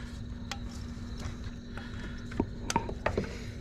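Several small plastic clicks and snaps of fuel injector connectors being reconnected on a BMW N54 335i engine sound close by over a low steady hum, coming in an irregular cluster near the end.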